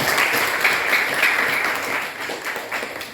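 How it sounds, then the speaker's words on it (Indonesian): A classroom of students claps for a student group, a short burst of bright, dense applause close by that fades slightly toward the end. "Kasih tepuk tangan untuk kelompok."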